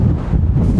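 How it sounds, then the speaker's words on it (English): Strong wind gusts on a Korean beach buffet the microphone with a loud, continuous low roar and rumble throughout the brief moment. "with this extreme gust of wind"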